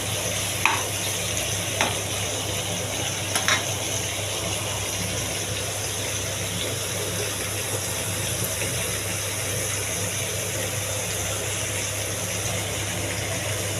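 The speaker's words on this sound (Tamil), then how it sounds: "கொஞ்சம் உப்பு போட்டு தேவையான உப்பு போட்டு நல்லா வதக்கிக்கிட்டேன்" Tomatoes with salt sauté in a pan for tomato chutney, giving a continuous even sizzle, with a few light spoon taps early on before the frying hiss carries on alone.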